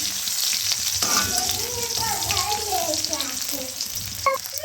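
Curry leaves and garlic sizzle in hot oil in a pan for a bitter gourd stir-fry, with a steady loud crackle and occasional stirring scrapes.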